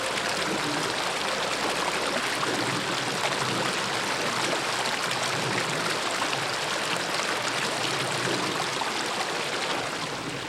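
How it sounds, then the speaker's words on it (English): Rushing water from mountain streams flowing down from the high Sierra, a constant, dense hiss, steady and fairly close throughout with no other sounds. "countless streams flow down from the high Sierra into the valley"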